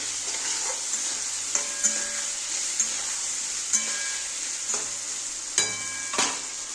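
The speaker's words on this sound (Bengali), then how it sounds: "এবার ভালো করে কষিয়ে নেব।" Potol and potato fry in a pan with a paste of ground dried chilli, cumin, ginger, salt and turmeric, giving a steady close sizzle broken by several sharp scraping stirs.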